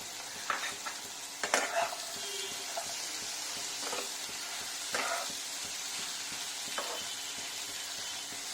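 A spoon stirs mushroom curry with carrot and sweet corn in a pan, giving a steady soft sizzle broken by a few scraping clinks and stirs, close by, with no talking.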